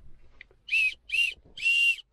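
A car-mounted animal deterrent whistle gives three clear, steady high-pitched tones, each under half a second with short gaps between them. The final tone is the longest, and the sound comes from close by with no talking over it.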